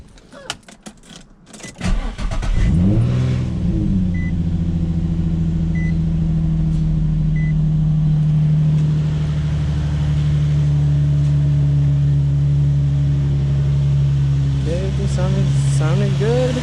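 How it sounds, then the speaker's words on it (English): An Infiniti G35 sedan's engine cranks and fires up for its first start after a plenum spacer install, settling into a loud, steady idle hum close by, with faint chirps near the end. "Let's give this thing its first start."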